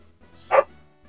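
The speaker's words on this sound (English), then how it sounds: "no barking while I'm recording." A single short dog bark sounds indoors, one quick burst that stands out moderately loud against a quiet room hum.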